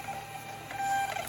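A Rollo thermal label printer feeds out a shipping label with a steady, soft mechanical whir and faint high whine, close by and uninterrupted for just over a second.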